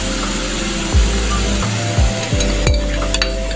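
Chicken pieces frying in a pan for white sauce pasta, a steady loud sizzle broken by a few sharp scrapes and knocks of a spatula against the pan.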